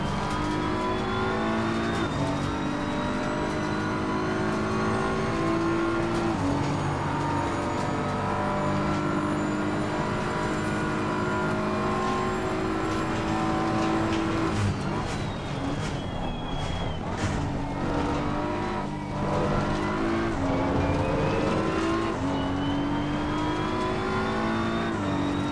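A BMW M4 GT3 race car engine in the racing game Assetto Corsa Competizione revs hard through repeated upshifts and downshifts, a loud continuous engine note with rising and falling pitch and occasional tire squeal.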